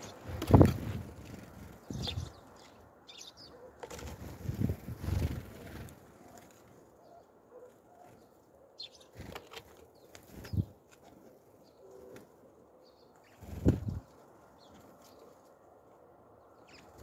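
Pigeons in a village yard gathering to peck at freshly scattered feed, with several bursts of flapping wings and faint cooing against a quiet outdoor background.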